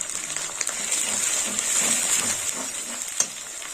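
Ground chilli, cumin and coriander powder frying in a pan for mutton curry, a steady soft sizzle with faint stirring scrapes throughout, close and fairly quiet.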